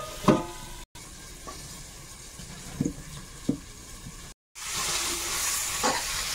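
Egg, potato and pointed gourd frying with spices in a pan produce a hissing sizzle with a few sharp stirring clicks, close by, growing louder toward the end.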